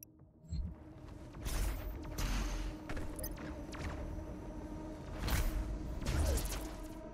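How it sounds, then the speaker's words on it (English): Cannons in the video game DOOM Eternal fire in heavy booming bursts amid mechanical rumbling and whooshes, several deep thuds spaced a few seconds apart over constant background noise. "I like that these cannons are shooting literally at nothing."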